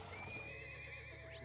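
A horse in a video game whinnies once, a brief, faint neigh heard over a low game backdrop.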